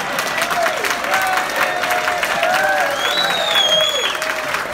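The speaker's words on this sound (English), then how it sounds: "Don't applaud, throw money." Steady audience applause at a live comedy magic show aboard the Flower Power Cruise, a dense wash of clapping with some crowd murmur running throughout, fairly loud and continuous.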